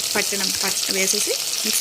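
Mixer-ground pumpkin chutney is added to a hot tempering of green chillies and curry leaves in a pan, giving a soft, steady sizzle under a person's close speaking voice.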